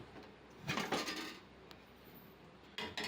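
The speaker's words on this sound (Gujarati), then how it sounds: "હવે હું આ કુકરને ખોલું છું" A preheated cooker lid being opened in a kitchen: a couple of quiet metallic clanks and scrapes, then a brief pause and another short clatter.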